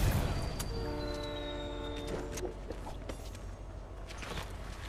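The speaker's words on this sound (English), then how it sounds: "No, please, get me off this train." A train in the video game Fortnite sounds a loud, sustained multi-tone horn over a heavy rolling rumble, with a thin whistle-like tone gliding above before the horn fades into continuing rail noise.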